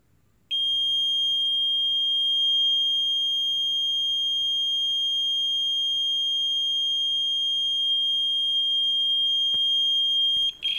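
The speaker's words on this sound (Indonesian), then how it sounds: "maka buzzer akan berbunyi continuous." A steady, high-pitched 3-24V dual-mode electronic buzzer in continuous mode sounds for about ten seconds, loud and unbroken, over faint low background noise.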